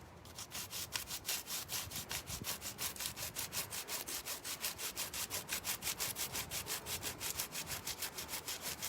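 Hand sanding of a table, close up, a fast even back-and-forth rasp with regular strokes that continue steadily throughout, fairly quiet overall and without speech.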